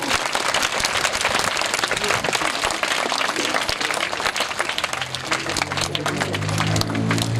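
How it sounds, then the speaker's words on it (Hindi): A crowd at a tricolour flag rally honouring a fallen army subedar applauds loudly and continuously to welcome a speaker, a dense clatter of hands that carries on as voices rise underneath toward the end. "जोरदार तालियां से स्वागत।"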